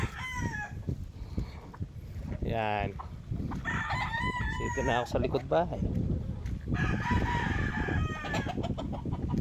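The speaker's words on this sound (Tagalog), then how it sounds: "Ang mga manok." Chickens cluck and a rooster crows loudly nearby, with a person talking over the birds throughout.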